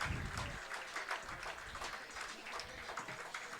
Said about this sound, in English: Applause for the 57 from this Curry crowd as he stands up.